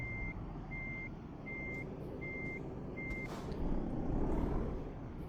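A heavy truck's reversing alarm in Euro Truck Simulator 2 sounds five evenly spaced beeps over a low engine rumble, followed by a brief hiss like an air brake.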